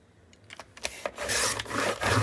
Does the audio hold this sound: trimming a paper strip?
yes